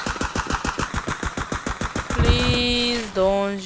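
Rapid automatic fire in Escape from Tarkov rattles off in an even, fast rhythm of about a dozen close shots, then gives way to sustained ringing tones and a brief second burst of sound.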